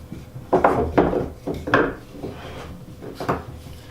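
A DeWalt trigger clamp slides back and forth along its bar and is clamped, giving several close, sharp scraping clacks in quick succession with quieter rubbing between them.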